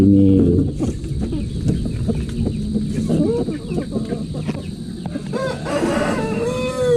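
A rooster crows several times among clucking chickens on a farm, loud and close, over a constant background hum.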